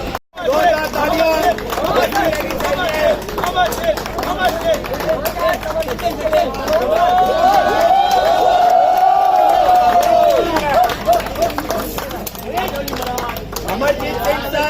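A crowd at the finish of the Chhatrapati Shivaji Maharaj Half Marathon in Mumbai cheers and claps in a steady, dense roar of voices, with a sustained tone running through it for most of the stretch.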